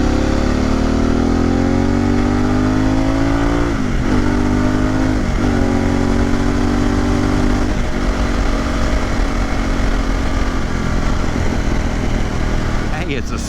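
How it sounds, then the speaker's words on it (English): Harley-Davidson Pan America adventure motorcycle with a factory Screamin' Eagle-style exhaust, engine revving steadily with rising and falling pitch and several sharp throttle blips, loud and close, with voices talking over it. "let's let you hear the exhaust"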